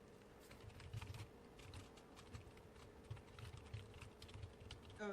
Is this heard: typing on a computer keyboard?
yes